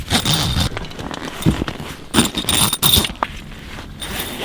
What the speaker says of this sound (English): Now we can unzip it.